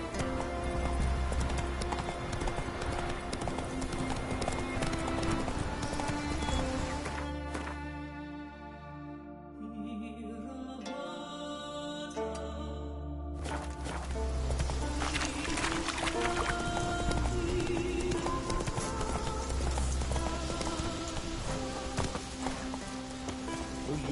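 Roach, a horse in The Witcher 3 video game, gallops with rapid rhythmic hoofbeats under loud game music, the clatter thinning briefly midway before resuming full pace.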